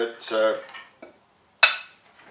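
Baked cauliflower au gratin being stirred and shifted around in its baking dish, a few scraping clinks of utensil against the dish with a sharp knock near the end, close by and fairly quiet.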